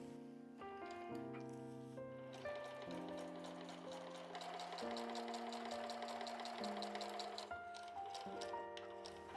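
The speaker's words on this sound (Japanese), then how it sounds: "この底の部分をミシンで縫います" Quiet, rapid mechanical chattering of a sewing machine stitching the bottom seam of a thin fabric pouch, running steadily under soft background music.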